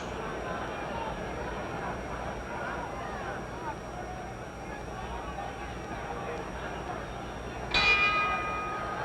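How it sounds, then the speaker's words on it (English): A boxing ring bell clangs once near the end of a fourth-round bout at Madison Square Garden, ringing briefly over a murmuring arena crowd. "The bell in 10 seconds."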